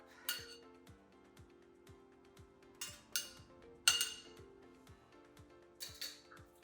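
A utensil scrapes and clinks against a pot while cooked collard greens in pot liquor are served, several sharp metallic clinks and taps spaced irregularly over a faint background hum, no talking.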